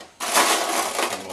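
Maruhon pachinko machine being locked, a sudden close rattling crunch of mechanism and metal balls that starts abruptly and carries on as a dense, gritty clatter.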